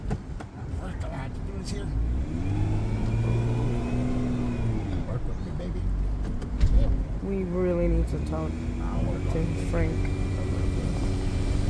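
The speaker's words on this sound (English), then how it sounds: "The car that no one's driving. Just going along." A driverless car rolls past on a street, its engine and tire noise swelling and fading over a steady traffic hum, with voices talking over it.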